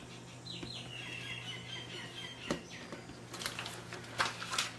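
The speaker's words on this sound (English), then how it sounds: "You hear all the birds?" Birds call outdoors in the background, a few thin whistles early on and a busier burst of sharp chirps and squawks toward the end, faint and distant, with no talk.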